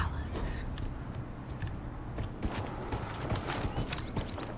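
Horse hooves galloping in the video game Dragon Age Inquisition, a quick, even clip-clop rhythm of repeated hoof strikes over a steady background, moderately close and fairly soft.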